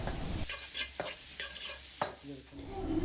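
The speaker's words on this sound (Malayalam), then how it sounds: "എന്നിട്ട് ഇതിനെ വീണ്ടും നല്ലതുപോലെ ഒന്ന് വഴറ്റിയെടുക്കാം." Chicken stirred and sautéed in hot oil in a pan for kothu parotta, a steady close sizzle broken by several sharp scraping strokes of a spatula, no voices.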